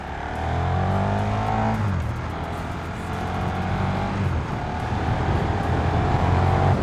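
A KTM 1390 Super Duke R EVO motorcycle accelerating onto a motorway, its engine note climbing through gears with brief drops between shifts, loud and close with wind rush building underneath.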